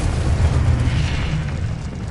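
A Confringo spell explosion in the Hogwarts Legacy video game, a loud, dense boom with a low rumble that fills the short moment, no speech.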